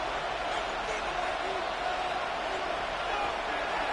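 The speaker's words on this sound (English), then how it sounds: "This crowd into it now as we get to 3rd down." Stadium crowd noise in the Madden NFL 26 football video game, a steady, loud roar of cheering sustained for the whole stretch under a commentator's voice.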